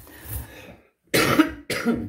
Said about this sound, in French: pardon pour ma toux